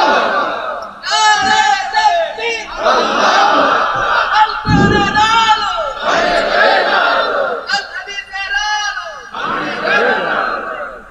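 A crowd at a religious sermon shouts slogans together in loud, sustained call-and-response bursts, many voices rising and falling in unison with brief gaps between chants.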